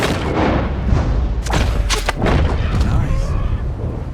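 A bow shot while hunting in Red Dead Redemption 2, a sharp release and thump followed by a few more impacts and booming hits, loud and close, with game sounds beneath and speech nearby.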